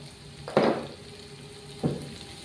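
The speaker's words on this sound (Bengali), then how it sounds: "হলুদ লঙ্কাটা একটু ভালো করে ভাজবো।" Turmeric and chili frying in oil for a fish curry, a quiet steady sizzle with two short louder scraping bursts as the spices are stirred, close and with no voices.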